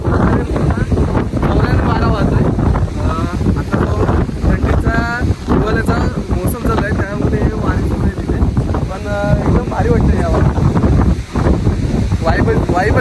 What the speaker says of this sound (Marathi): साईडला आपल्याला ढकलून जाईल एवढा जोरात वारा आहे